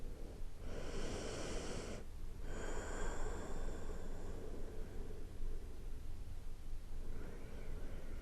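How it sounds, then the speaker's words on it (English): Deep, slow breaths during prenatal yoga in child's pose, with soft hissing inhales and exhales repeating close to the microphone over a steady background hiss. "Let's take some deep breaths here."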